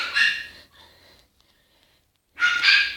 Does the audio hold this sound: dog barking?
yes